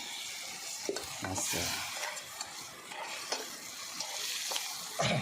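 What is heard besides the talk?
water poured into pan of frying crab and fish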